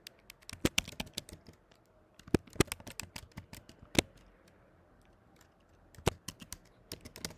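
A computer keyboard clicks in irregular bursts of quiet keystrokes, with a few sharper taps and short pauses, while Flutter app code is being written.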